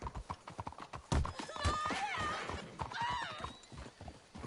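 Horses clip-clopping in Red Dead Redemption II, a run of close hoofbeats on the ground with a horse whinnying partway through, the steps irregular and fairly loud.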